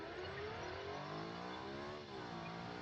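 A Ferrari FXX-style concept car in the driving game BeamNG Drive revving, a loud, steady synthetic engine whine with rising harmonics and a brief dip before climbing again, with no talk.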